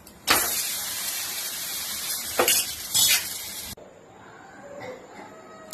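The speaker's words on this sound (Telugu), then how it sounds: "రాగి అట్టు అయితే వేసిందండి. దాని చుట్టూ నూనె వేసుకోవాలండి." Ragi dosa frying in oil on a pan, a loud, bright sizzle for several seconds with a couple of scraping surges, then dropping abruptly to a quieter, fainter crackle.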